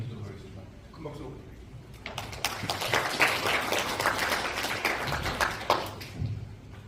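Audience applause at a Busan public presentation on redeveloping Nam Port, starting sparse and quiet, then swelling into a fuller burst of clapping that tapers off near the end.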